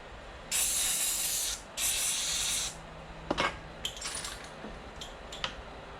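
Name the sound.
compressed air blowing out rubbish on motorcycle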